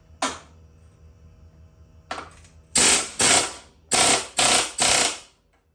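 A wrench with an impact tool cranking out a bolt while refurbishing Murray equipment: two faint clicks, then five loud, evenly spaced bursts of whirring rattling, each cut off sharply, close and without talk.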